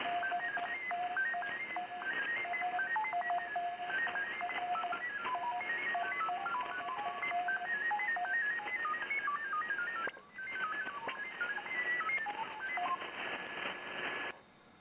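FT8 digital signals on the 20 meter amateur band come through a radio receiver as overlapping steady stepped tones in a narrow band, continuous for most of the span with a brief dropout, no talking.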